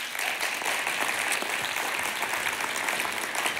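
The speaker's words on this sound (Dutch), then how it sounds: "Geef haar een groot applaus." A symposium audience claps steadily for a speaker, an even, continuous wash of applause heard from a moderate distance with no talking over it.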